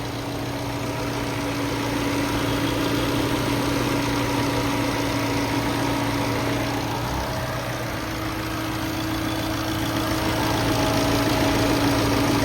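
A 1.3-litre diesel engine in a 2010 Tata Indica Vista idles steadily with the air conditioning running, a constant low rumble and hum that holds at an even level throughout with no talk.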